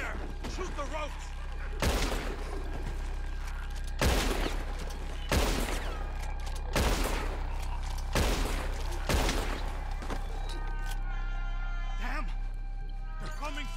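Gunfire in the Red Dead Redemption 2 video game: about six loud, sharp shots spaced a second or so apart over a steady low rumble, with voices shouting in the background.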